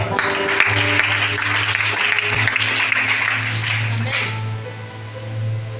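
A congregation claps and applauds during a Sunday church service in Libreville, Gabon, a dense wash of hands for about four seconds over a steady low musical drone, then thinning out as the drone carries on.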